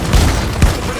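Explosions and minigun fire in Deep Rock Galactic hit in two heavy, close bursts of booming, rattling gunfire within about a second.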